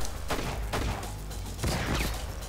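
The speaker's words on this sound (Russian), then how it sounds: "Да, стрельба в никуда." Gunfire in the video game Enter the Matrix comes as a rapid burst of loud, crackling shots that keep going without a break for a couple of seconds.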